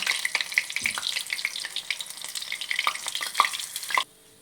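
A potato chaat katori bowl fries in hot oil in a pan, crackling and popping steadily with close stirring scrapes before the sound cuts off abruptly.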